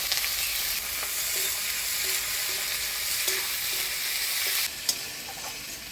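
Chopped onions hit hot oil already tempered with whole garam masala, dried red chillies, bay leaves and cumin for a jackfruit and prawn curry, giving a steady, close hiss of frying with faint stirring scrapes and a brief clatter near the end.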